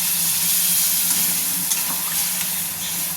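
Potatoes and pointed gourd simmer and sizzle in a pan just after water is poured in, a steady close hiss and bubbling frying sound with soft stirring scrapes, no talking.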